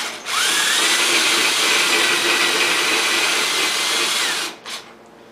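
A power drill spins up and holds a steady, loud whine while enlarging holes for strut top studs on a 1976 Mazda RX front suspension, then cuts off abruptly near the end.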